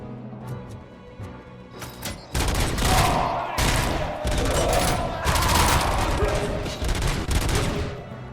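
Pistol gunfire in the Robocop: Rogue City video game, a few sparse cracks at first, then a dense, loud run of rapid shots and blasts in a firefight over an industrial area, with a voice briefly under it.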